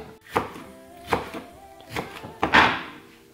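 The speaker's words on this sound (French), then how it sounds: "Le poivron, on va le couper sauvagement pour que quand ça cuit, je vois encore des morceaux." Bell pepper being chopped roughly with a knife on a board: four distinct, close thuds at uneven intervals, the last one louder with a brief ringing tail, without any talk.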